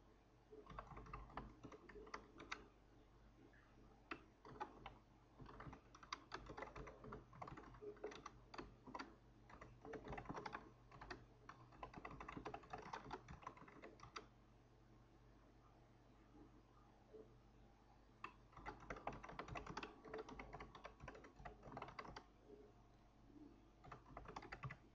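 Typing on a computer keyboard: rapid bursts of quiet clicking keystrokes heard close up, pausing briefly between runs and resuming over a faint steady hiss, with no talking.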